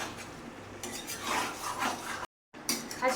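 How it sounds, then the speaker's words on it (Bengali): Meat being stirred and sautéed with masala in a pan, quiet scraping and shuffling with a faint sizzle and light clinks, briefly cut off by a moment of silence before resuming. "এবার কষিয়ে নিই ভালো করে মাংসটাকে।"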